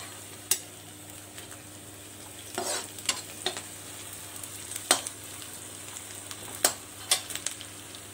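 Onions frying on a high flame in a pan, a low steady sizzle broken by sharp scraping stirs and spatula taps at irregular intervals, close and fairly quiet with no talking.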